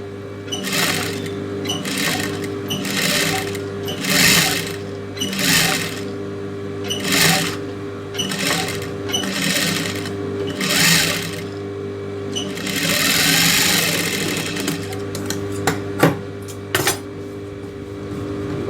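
A sewing machine stitches a silk skirt neck design in a series of short rattling bursts of rapid needle clatter, with pauses between runs and one longer stretch near the end. No one speaks.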